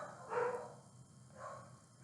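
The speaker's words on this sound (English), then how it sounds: "The dogs, are they bothering you?" Dogs bark at a distance: two short, muffled barks spaced about a second apart over quiet background hum, with no talking.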